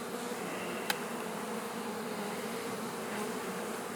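Honey bees buzz around an open hive, a steady even drone of many insects close by, with one brief click near the start and no talking.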